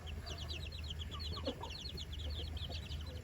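Home-raised chickens and young chicks cluck and peep continuously at moderate distance, the quick high chirps layered over a steady low background hum.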